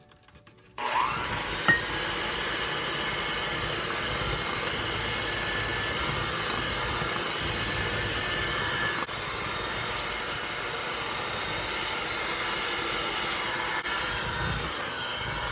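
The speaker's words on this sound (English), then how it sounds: "Mix it in until it's nice and well combined." An electric mixer blends dry ingredients into thick snickerdoodle cookie dough, a steady loud motor drone that starts suddenly and runs continuously with slight changes in load, no voices.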